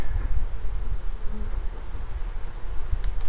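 A close, steady drone of many honey bees at an open hive during an apiary inspection hums continuously with low rumbling, no voices, the swarm's buzz rising and falling slightly.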